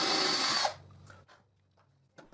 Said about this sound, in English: I drill a guide hole.